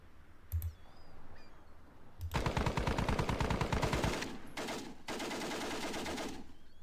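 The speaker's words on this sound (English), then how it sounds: "they're firing back with the machine gun now" Sustained rapid machine gun fire from the wargame Squad Battles: Advance of the Reich, preceded by a couple of isolated shots, then two long dense bursts of loud, close gunfire separated by a brief pause.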